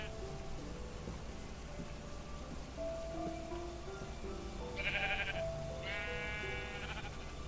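Two short sheep bleats from Minecraft sound close together over quiet background music and soft game noise, while someone talks briefly.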